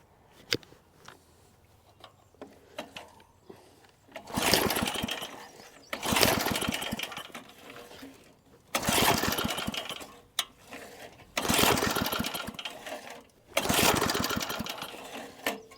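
An old garden tiller engine, used for tilling a vegetable garden, roars in close, loud bursts of about two seconds each, cutting out and restarting five times after quieter rattling at the start.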